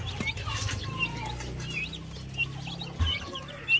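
Newly hatched native chicks peep softly and intermittently, mixed with low clucking from nearby farm fowl, fairly faint against a quiet background.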